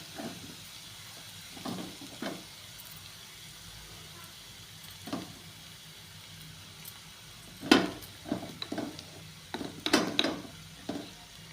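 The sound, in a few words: frying onion paste with turmeric and chili powder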